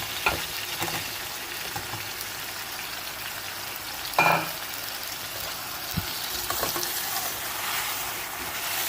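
Potatoes for a Pakistani-style aloo fry crackle and hiss in a pan: a continuous, fairly soft sizzle with a few sharp clinks and scrapes of a stirring utensil partway through.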